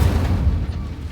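A fire spell is cast in the Hogwarts Legacy video game, giving a heavy low rumbling whoosh that is loud and close and fades slightly over about a second, with a voice faintly underneath.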